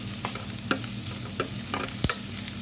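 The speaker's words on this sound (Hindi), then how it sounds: "इसमें शिमला मिर्च डाल दीजिए, पालक डाल दीजिए और इसको सौटे होने दीजिए।" Capsicum and spinach sautéing in a pan, a steady close sizzle with a few sharp clicks and scrapes of stirring.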